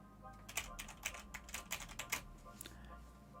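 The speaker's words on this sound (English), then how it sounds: "you're going to be able to hear me tapping on my keyboard" Light, irregular tapping on a computer keyboard, faint and close in a quiet room, with clusters of soft key clicks over a few seconds.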